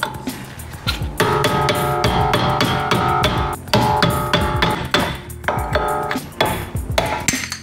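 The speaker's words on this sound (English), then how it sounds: "I'm going to use an old chisel, a hammer, to get these loose." An old chisel struck repeatedly with a hammer to loosen worn rear wheel bearing parts on an Alfa Romeo GT JTS, loud ringing metallic clangs in a quick, uneven rhythm, close up, with no speech.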